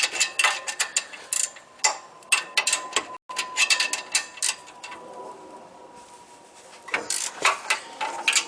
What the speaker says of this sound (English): I'm just going to use a ratchet wrench for this bottom one